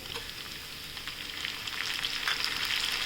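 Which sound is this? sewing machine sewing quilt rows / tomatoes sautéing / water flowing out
tomatoes sautéing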